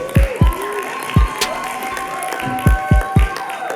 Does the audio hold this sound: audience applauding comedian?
yes